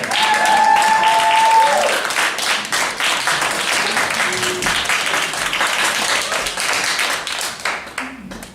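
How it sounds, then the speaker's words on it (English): A comedy club audience applauds and claps steadily for a comedian, a dense, continuous burst of many hands with a few louder claps in the first seconds, while a voice talks over the crowd near the start. "Don't clap."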